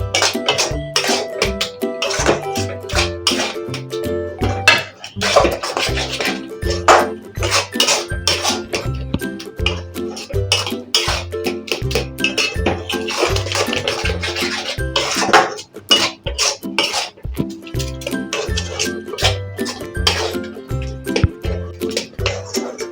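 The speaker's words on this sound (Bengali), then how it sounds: "ভালো করে নাড়িয়ে নিচ্ছি। ভালো করে নাড়াতে হবে, বারবার করে নাড়াতে হবে, নাহলে নিচে লেগে যাবে।" Coconut malai sandesh mixture is stirred in a pan, with a spoon scraping and clinking against the metal in a steady, repeated rhythm that carries on without pause.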